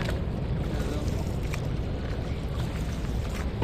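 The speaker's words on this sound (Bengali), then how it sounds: "এই যে লঞ্চ" A motor launch ferry on the Buriganga river gives a steady low engine rumble mixed with wind and water noise, heard from nearby on the river.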